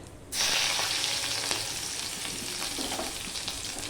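Chopped garlic hits hot spiced oil in a pan and erupts into a sudden loud sizzle that stays dense and continuous, with faint stirring ticks.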